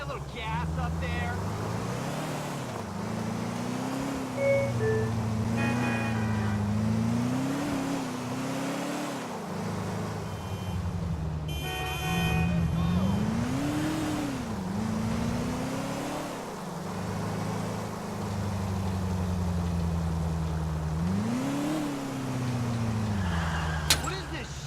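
A car engine in the video game GTA IV, a continuous low drone that rises and falls in several revving swells throughout, with voices and game sounds over it.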